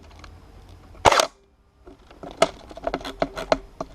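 An L85A2 airsoft rifle set to semi-auto clicks without firing, one sharp mechanical snap followed by a string of lighter clicks and rattles handled close to the microphone.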